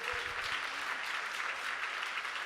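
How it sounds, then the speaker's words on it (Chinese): A church congregation claps together during a Sunday worship service, a brief burst of steady, even applause. It sounds fairly faint and distant, with no speech over it. "我们再一个掌声归给我们的上帝"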